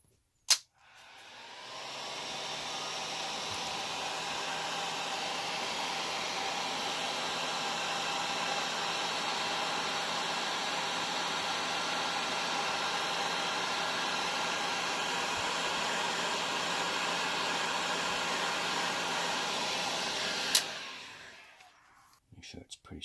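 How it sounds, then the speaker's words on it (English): A heat gun blows a steady, loud broadband roar on heat shrink tubing during a fan install on a Losi Tenacity, running continuously for about twenty seconds after a brief click, then cutting off. "Now I'm just gonna heat up the shrink wrap."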